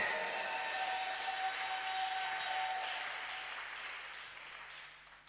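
A church congregation applauds steadily together, a dense wash of clapping that holds strong for several seconds and then slowly fades, with a faint sustained tone lingering beneath.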